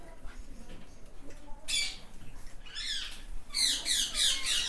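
Green ringneck parrots in breeding cages squawk in loud, harsh bursts, with a couple of sharp calls around the middle and a denser burst of screeches toward the end over a low background hum.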